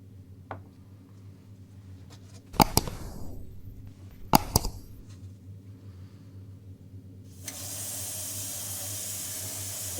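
Tamiya X6 orange paint, thinned half and half, is sprayed through an airbrush onto an old Hornby model railway coach, with a soft steady hiss beginning late and continuing, after a couple of brief clicks over a quiet low hum.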